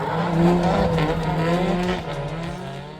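A car drifts with sustained tire squeal, engine roaring loud and close throughout, the squeal wavering and fading slightly toward the end.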